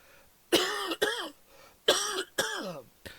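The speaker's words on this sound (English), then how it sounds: "I could do with getting rid of this chesty cough though." Two pairs of harsh, chesty coughs, each burst followed quickly by a second, separated by a short pause, close and loud.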